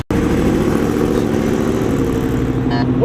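Audi R8 fitted with an aftermarket Rev 9 straight pipe exhaust, running loud and close with a steady, rumbling engine drone for about three seconds.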